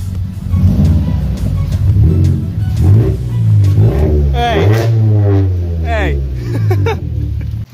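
A car engine fitted with new NGK iridium spark plugs revs loudly nearby, a rumbling note swelling and easing several times while people talk over it.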